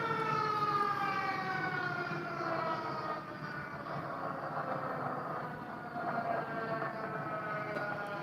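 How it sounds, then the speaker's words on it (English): A steady, wailing omnidirectional Federal Signal outdoor warning siren in Dallas-Fort Worth rises and falls in pitch, sustained and fairly distant, with no voices over it. "Hello, sirens of DFW."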